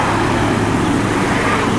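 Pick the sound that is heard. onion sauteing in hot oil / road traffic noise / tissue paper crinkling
road traffic noise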